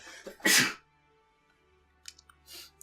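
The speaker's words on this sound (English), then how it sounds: "hang on, I need to sneeze." A single sharp, loud sneeze from a person, preceded by a short intake of breath, followed by quiet with a couple of faint mouth and breathing sounds.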